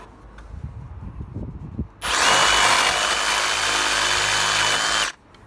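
A Ryobi R18RS7 cordless reciprocating saw roars into a continuous, loud, even cut through an old broom handle for about three seconds, then stops abruptly, after a few quieter handling knocks.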